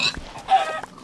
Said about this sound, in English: And chickens just spawn everywhere.